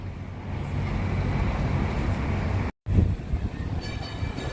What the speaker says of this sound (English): And here's our tram